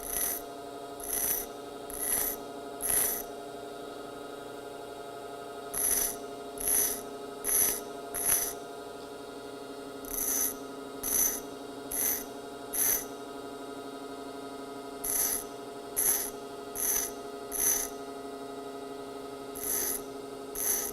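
A drill bit is sharpened on a running grinding wheel, the motor humming steadily beneath repeated short rasping contacts that come in clusters of four or five strokes with brief pauses between groups.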